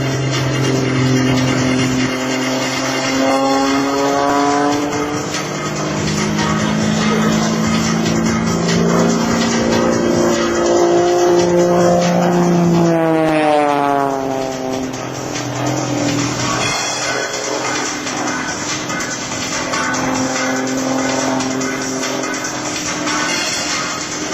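An Extra 300 aerobatic propeller airplane drones loudly overhead during a knife-edge pass at an air show, its engine pitch rising and falling as it maneuvers, with a Doppler-like swoop midway.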